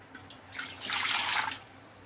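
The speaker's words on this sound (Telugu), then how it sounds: "నాలుగు లీటర్ల వాటర్ పోసుకోవాలి" Water splashes and gushes briefly into a pot for about a second, then fades to a quiet background.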